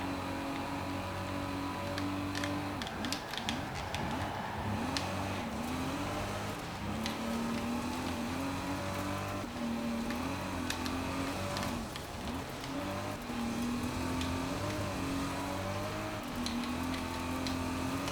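Video game car engine racing on a dirt track, a steady droning motor with shifting pitch that rises and falls through gear changes, loud and continuous for the whole stretch with no talk over it.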